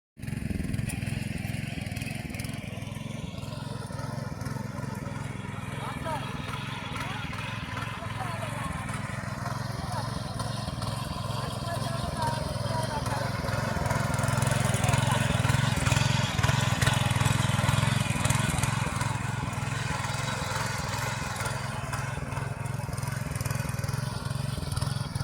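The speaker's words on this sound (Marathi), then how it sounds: "ट्रॅक्टरच्या नांगरणीने शेत एकदम मस्तपैकी नांगरून झालेलं" A tractor ploughs a farm field in the Konkan region, its engine droning steadily and growing louder midway as it works the soil, with people talking over it.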